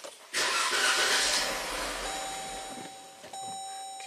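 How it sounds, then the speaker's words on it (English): Starter cranking a 2015 Jeep Grand Cherokee Pentastar V6 with a P0302 misfire: a steady whirring crank lasting a few seconds, close and loud, with a chime sounding alongside toward the end. "Let's crank it over."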